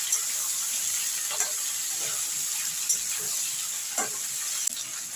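Cauliflower florets and stalks frying with a pan of mixed vegetables for an eleven-vegetable curry, giving a steady hiss with occasional light scrapes and clinks of stirring throughout.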